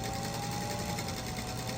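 A sewing machine stitching two quilt squares together for a snow star quilt block, a steady continuous mechanical whir heard close and alone, with no talking.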